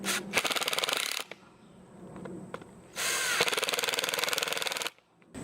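A power drill drives short screws into a wooden pallet garden planter in two loud buzzing bursts, each about two seconds long, separated by a quieter gap.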